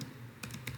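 Computer keyboard typing while entering a keyword during an SEO tutorial: a few quick clustered keystroke clicks, close and fairly quiet, with no voice over them.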